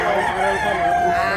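Rooster crowing at a busy chicken market in Mantalungon, Cebu, a sustained loud call with bright harmonic bands over steady crowd and market noise, faint voices underneath.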